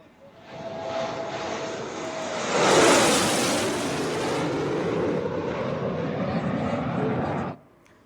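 A fighter jet roars low over an expressway during an air force exercise, swelling loudly from a distant rumble to a close, sustained jet-engine blast before cutting off abruptly.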